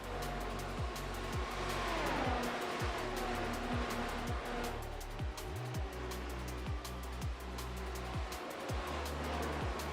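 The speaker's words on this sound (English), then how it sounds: "Kingswell dives down the inside into Spoon Curve and keeps the position going into 130R as he defends the inside" Race cars at Suzuka circuit roar past in close succession, engines rising and falling as they pass through Spoon Curve and 130R, loud and continuous with repeated Doppler sweeps and no talk.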